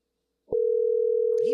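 A telephone line tone starts abruptly and holds as one steady, loud electronic note while a call waits to be answered, with faint noise near the end.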